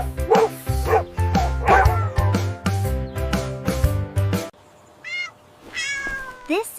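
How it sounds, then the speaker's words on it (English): A dog barks several times in quick succession over a bright musical backing, followed by a few shorter high yips and whines in a children's farm-animal learning segment. "The dog says woof woof."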